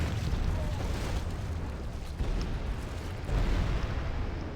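Massed trebuchets hurl rocks in a Medieval II: Total War battle, with English siege engines facing bombards. Heavy booms and crashing impacts rumble on continuously, dense and loud, one overlapping the next with no pauses.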